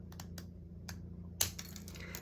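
Scissors snip a bendable plastic microscope slide, giving a few quiet, sharp clicks followed by one louder crisp snap near the end, all close and without speech.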